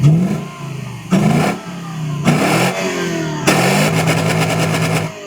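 A tuned Volga car's engine revving hard in repeated bursts, each rising in pitch and then dropping back. The last long rev ends in a rapid, rattling flutter. It is loud and close, with no talk.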